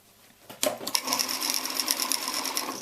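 A sewing machine starts up and runs a rapid, steady stitching burr along a pillow cover seam, close and clear for a couple of seconds.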